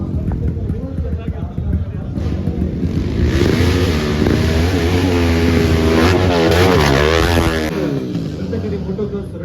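Dirt bike engines rev loudly and repeatedly at a hillside race in Belthangady, rising and falling in pitch close by, with people talking underneath.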